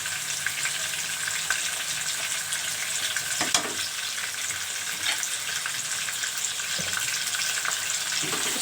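Ginger garlic paste fries in a pan of chicken karahi, a steady close sizzle with occasional stirring scrapes throughout.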